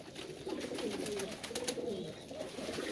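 Pigeons cooing in a loose flock during their weekly bath, soft low murmuring coos repeating continuously over a steady background of splashing and rustle, moderately close.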